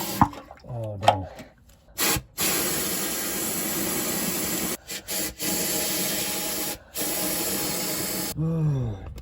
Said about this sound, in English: The nozzle just got kinked up and it blew the bottle off. It went absolutely everywhere.